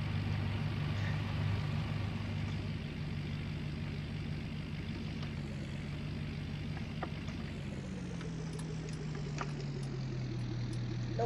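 A vehicle engine in Farming Simulator 19, a steady, loud, droning rumble with a low hum that holds throughout and shifts pitch slightly near the end, with no talking.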